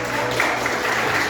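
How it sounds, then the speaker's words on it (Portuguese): Applause in a church service for children who took part, thanking them; steady clapping throughout the brief moment with a low hum of music or room tone beneath. "uma salva de palmas para eles."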